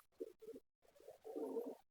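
Pigeons cooing on a corrugated tin roof, a few soft, low coos in short bursts, close and fairly quiet, with brief pauses between calls.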